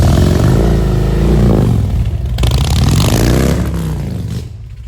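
A Harley-Davidson Road King with Reinhardt exhaust pipes and tampered baffles revs loudly up close, a rough, throaty engine roar rising and falling over several seconds before tapering off, with no talking.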